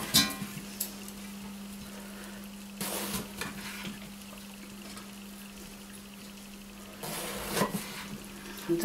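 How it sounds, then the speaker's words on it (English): Sliced aubergine frying in a pan gives a steady soft sizzle with a low hum underneath, broken by a few louder bursts of crackling and stirring. "I'm going to put it in the pan, because it says the aubergine needs to be cooking"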